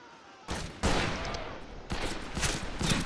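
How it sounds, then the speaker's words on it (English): Rapid gunfire from a fast-shooting gun in Fistful of Frags: quiet at first, then loud, close bursts of quick shots crackling in two volleys, the second stretching to the end. "With his fast ass shooting gun."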